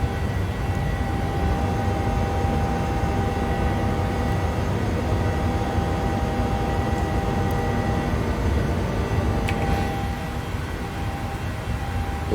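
A PMDG 737-800 airliner climbs out of Miami in Microsoft Flight Simulator, its jet engines giving off a steady, loud, even roar with a faint whine on top that eases slightly toward the end.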